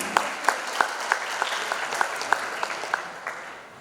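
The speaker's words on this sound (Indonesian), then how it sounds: "Silakan tepuk tangan." Scattered, distinct claps from a modest crowd at a Duta Bahasa language ambassador pageant final in Bangka Belitung. The claps come fairly evenly and then thin out and fade near the end.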